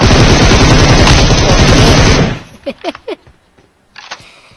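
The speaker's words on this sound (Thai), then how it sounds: "ปืนนี้ยิงยาก" Rapid automatic gunfire in the mobile game PUBG Mobile, a loud dense burst lasting about two seconds, followed by a few sharp metallic clicks and a brief faint tail.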